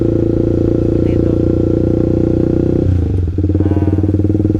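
Manual-clutch motorcycle engine running loud and near, idling steadily and then picking up revs after a gear change into first, with no speech.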